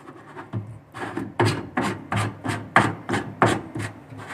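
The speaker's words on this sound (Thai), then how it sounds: "คือหมุน ใส่ที่เกลียวมันแล้วเราก็หมุนไปทางขวามือนะครับ" A kitchen sink drain part is twisted clockwise onto its thread by hand, giving about eight evenly spaced, close scraping grinds of plastic on plastic, each turn a short rasp.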